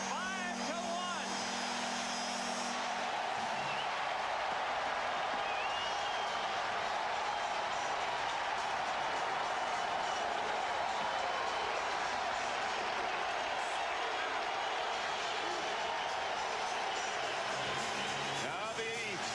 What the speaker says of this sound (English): Now the U.S. fans stand and cheer.